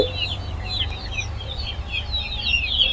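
Kadaknath chickens at a poultry market, about a month old, clucking and cheeping continuously with overlapping calls over a steady background hum of crowd and market noise.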